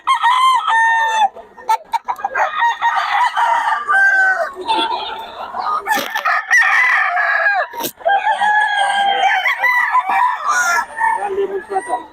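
Several roosters crow again and again over steady clucking from caged fowl at a busy poultry market in Bocaue. The birds are near and loud, with faint voices in the background.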